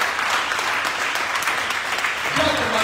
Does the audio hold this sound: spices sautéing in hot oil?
no